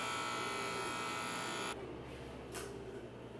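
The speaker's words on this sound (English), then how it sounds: "I just need a razor. I need to shave this so it can blend." An electric razor shaves hair during a home haircut, a close steady buzz that cuts off partway, leaving quieter room noise with a brief brush of sound.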